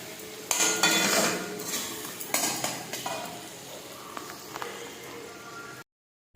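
A spatula scrapes and knocks against a pan as ginger paste and fried onions are stirred, making repeated close scraping strokes over a soft sizzle, with no talking, before the sound stops abruptly.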